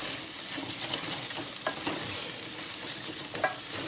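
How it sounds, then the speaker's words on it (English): Liquid hitting a hot, dry pot of roux for cream of celery soup, a soft continuous sizzle and hiss with a few small pops and stirring scrapes, fairly quiet and close. "you'll hear the sizzle now. The pot is quite hot and quite dry"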